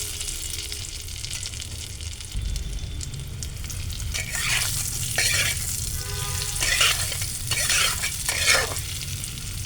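Fried potatoes hitting hot oil seasoned with turmeric and chili powder, a loud continuous sizzle that swells into bursts of crackling and spatula scrapes, close by with no talking.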